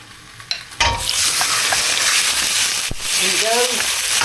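Beef hits a hot wok for stir-frying, with a sudden loud sizzle that settles into steady frying hiss. There are faint clanks and scraping as the meat is stirred, and brief quiet speech.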